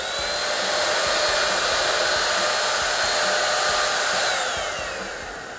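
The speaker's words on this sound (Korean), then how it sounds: "블라인드를 흔들 정도의 거리감으로 분사할 수 있다는 얘기입니다" A cordless rechargeable spray gun filled with water blasts a continuous, loud, airy hiss for several seconds at close range, tapering off slightly at the end, with no talk.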